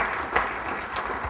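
Audience applause at a talk on Common Core, a steady wash of clapping from a crowd indoors, fairly even and sustained, with no voice over it.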